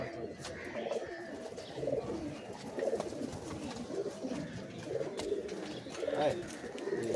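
A pair of loft pigeons coos steadily in a repeating rhythm, low murmuring calls roughly every second over a constant background hum.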